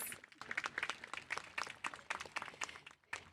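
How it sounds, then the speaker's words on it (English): Scattered applause from a modest audience at a high school graduation, individual claps audible, fairly faint and uneven in rhythm. "Let's give Mary Jean another round of applause"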